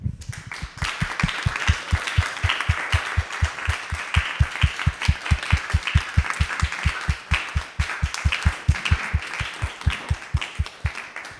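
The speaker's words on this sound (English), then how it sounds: "we wanted to give a big round of applause" Steady rhythmic clapping from a crowd at a planning meeting at ISKCON of Silicon Valley, beats evenly spaced and sustained for several seconds at a lively, consistent tempo.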